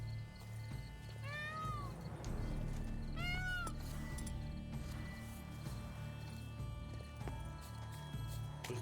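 Hooves of Victor, the countess's steed in The Witcher 3: Wild Hunt's Blood and Wine, clop along at a quiet, steady pace, joined by a couple of short whinnies near the start.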